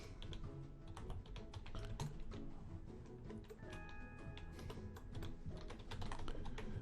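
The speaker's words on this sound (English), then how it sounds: "I'm a very awkward angle for typing while I record" Rapid typing on a computer keyboard at an awkward angle, dense steady clatter of keys throughout, close and alone with no speech.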